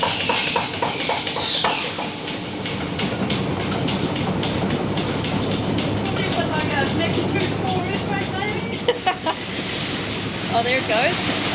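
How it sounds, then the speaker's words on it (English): An old wooden seed grader rattles continuously as seed passes down through its layers, a dense clattering texture with brief voices audible at times. "that rattling sound you can hear is the seed coming down through The various layers"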